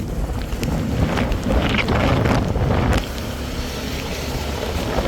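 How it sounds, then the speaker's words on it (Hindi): Strong wind gusting straight into the microphone outdoors at an Indian Navy station in Goa, a loud, steady rumbling roar with buffeting swells throughout and no voices. "यहाँ पे हवा बहुत तेज़ चल रही है"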